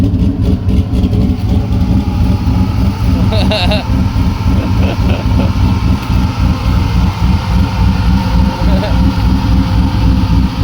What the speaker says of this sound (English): Fans are about to kick on and suck up a bunch of leaves in the radiator.